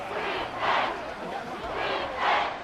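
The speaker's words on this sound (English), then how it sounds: "this crowd is making an impact right now." Stadium crowd in the Madden 24 football video game, Commanders versus Browns, roaring in two swelling waves of cheering, steady and loud throughout with no voices standing out.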